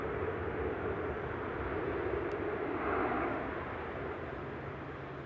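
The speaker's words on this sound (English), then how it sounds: "Aer Lingus Regional heading back to Belfast there" Aer Lingus Regional airliner at Manchester Airport, heard as a steady broadband jet roar that holds fairly loud and even throughout, swelling slightly in the middle before easing off a little toward the end.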